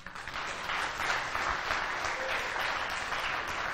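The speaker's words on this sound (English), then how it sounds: "Round of applause." Conference audience applause at the NorthSec security event, a full, steady burst of many people clapping together, loud and sustained for the whole stretch.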